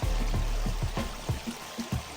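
Water sloshing and washing in a gold pan in a rhythmic series of splashy swirls, each pass pouring off with a gurgle, close and fairly loud with no voices.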